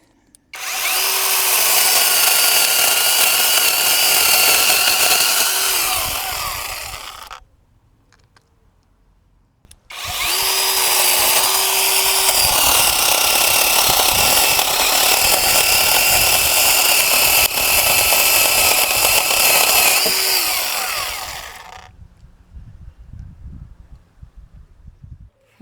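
A cordless Avhrit 2-in-1 mini chainsaw cuts through wet wood in two long, loud bursts of steady high buzzing, close up, separated by a brief pause, then fades to quiet handling noise.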